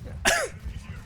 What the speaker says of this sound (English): My cough is returned, as you can tell.